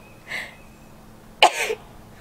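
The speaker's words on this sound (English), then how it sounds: "Oh, I gotta sneeze." A person sneezes once, a short sharp burst with a faint breathy intake just before it, close and alone in a quiet room.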